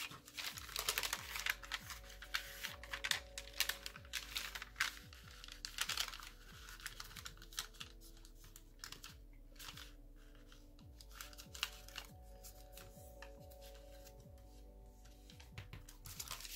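Paper being creased and folded by hand for an origami Santa crane, with quiet crinkles, soft taps and rustles in irregular bursts, close and faint, with no talk.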